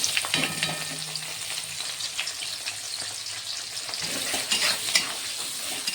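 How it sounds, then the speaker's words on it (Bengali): Onion and dried red chillies sizzle in hot oil left over from frying potatoes for a red mutton and potato curry, a steady close crackle with light stirring clinks and no talking. "আলু ভাজা তুলে নিয়েছি ওই তেলে আমি দিয়ে দেবো পেঁয়াজ আর শুকনো লঙ্কা"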